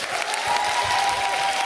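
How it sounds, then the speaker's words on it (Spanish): Audience at a live improv comedy show applauds steadily for the whole stretch, a dense and fairly loud wash of clapping with a faint crowd murmur beneath. "fuerte aplauso para Planeta Impro."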